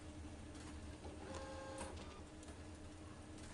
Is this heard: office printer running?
yes